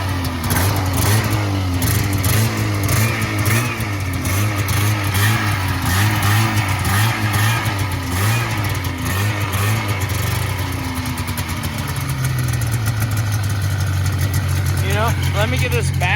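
A 1980 Yamaha Exciter SS440 snowmobile engine, revived after 20 years abandoned in the woods, runs loud and close with a rough pulsing idle, then revs up and holds a higher drone, people talking over it.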